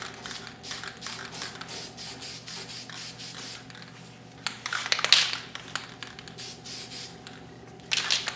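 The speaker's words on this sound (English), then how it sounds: "I'll spray a light coating over it so I can see where I'm at." Guide coat sprayed lightly from an aerosol can over filled bodywork on a Camaro: a series of short repeated hissing bursts, close and fairly loud, with brief pauses and a couple of longer sprays.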